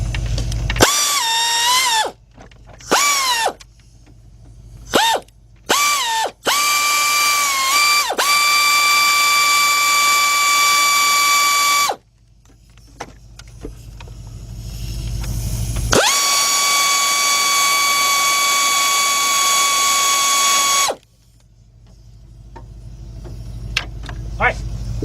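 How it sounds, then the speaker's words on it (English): A hand ratchet works on the spark plugs of a 2000 Ford Excursion's 5.4 engine, giving rapid, close metallic clicking in repeated bursts, with long steady runs broken by pauses. "let's take all the screws out except for that one that's messed up"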